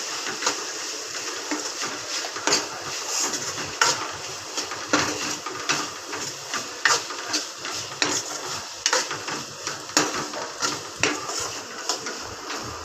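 A spoon stirs a potato bhaji with crushed peanuts in a pan, producing repeated clattering scrapes against the metal over a faint sizzle, irregular and close, with no one talking.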